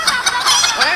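Children in a concert audience imitate hens clucking, a dense chorus of high, choppy cluck calls overlapping for a brief burst.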